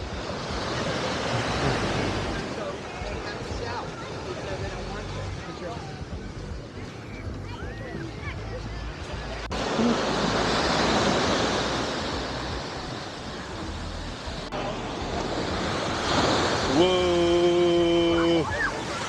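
Ocean waves wash and surge onto a beach at Laguna Beach in broad swells, with wind buffeting the microphone and a voice speaking briefly near the end.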